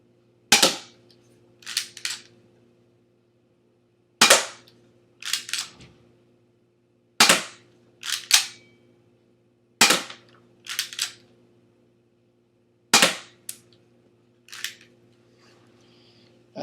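A Glock 18 airsoft pistol firing 0.25 gram BBs, five sharp cracks spaced a few seconds apart, each followed by quieter clicks or impact taps, close and loud against a faint steady hum.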